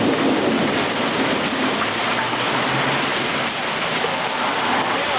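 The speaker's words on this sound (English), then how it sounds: "Then it begins to rain." Steady, dense rain hisses without pause during the 1987 Edmonton tornado storm, a broad wash of falling water with no voices.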